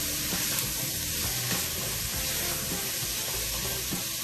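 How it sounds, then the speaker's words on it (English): Onions cook down in a pan with oil and garlic for braised lamb shanks, a close, steady sizzle with occasional stirring knocks and scrapes and no talking. "All you're doing is letting these onions cook down a little bit"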